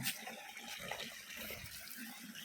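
Water from an irrigation channel flows through a coconut grove, diverted to the trees with a shovel; a steady, soft gushing and trickling, fairly faint and continuous, with no talk.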